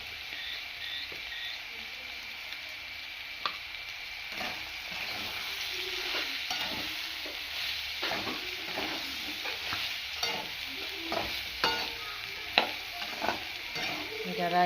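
Potato and soybean sabzi sizzles steadily in a pan while a spatula stirs it with irregular scraping and clinking strokes, fairly quiet and continuous with no talk.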